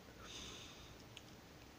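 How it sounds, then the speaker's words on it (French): A person with hay fever sniffles a few times, with brief, soft nasal intakes over a faint steady background hiss. There is no talking. "Si vous m'entendez renifler,"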